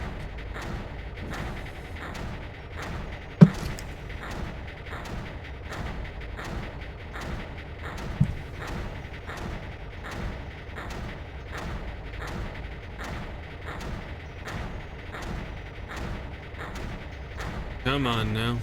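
Mortar fire in the strategy game Creeper World: steady, evenly spaced muffled thumps repeat roughly every second for the whole stretch, moderately quiet, with a couple of sharper clicks and no talk.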